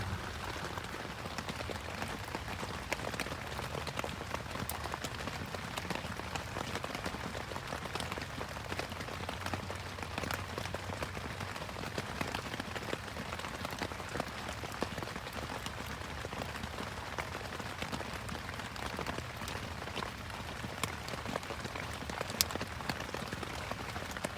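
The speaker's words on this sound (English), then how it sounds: "and it's raining hard." Heavy rain pours down steadily on a bushcraft shelter in the woods overnight, a dense, constant hiss with scattered drops pattering close by and no voices.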